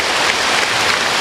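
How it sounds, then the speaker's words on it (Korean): A congregation at a Korean church sermon gives a brief, dense burst of steady clapping that fills the room, with no voices. "이럴 땐 박수를 두 손 높이 들고 치는 거예요"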